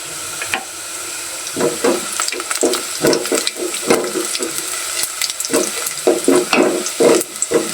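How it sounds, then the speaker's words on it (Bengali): Cumin seeds sizzling in oil over a reddened spice paste, a tempering for mutton curry in a pressure cooker: loud close bursts of spitting and crackling, with irregular stirring scrapes and knocks throughout, no speech. "জিরা দিয়ে কিন্তু আমি বাগারটা দিয়ে নেব"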